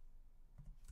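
A few faint, quick key clicks from typing on a Mac computer keyboard, heard alone and close within a second.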